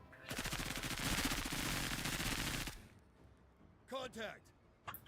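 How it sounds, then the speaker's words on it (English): Gunfire in the video game Menace: a sustained loud burst of rapid automatic fire for a few seconds, then stops and someone speaks briefly afterward. "We're going to deploy right here and start shooting."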